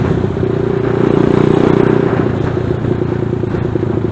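A ZS190 Grom clone motorcycle rides along with a steady, loud engine drone that swells slightly and holds, heard from up close on the bike with no talk.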